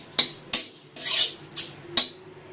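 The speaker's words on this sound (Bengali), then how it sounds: "জিরে আর শুকনো লঙ্কাটা একটা প্লেটের মধ্যে নামিয়ে রাখলাম।" Dry-roasted cumin and dried red chillies being scraped from a pan onto a plate, five sharp metallic clinks of a spoon on cookware with a brief rustling scrape between them, close and otherwise quiet.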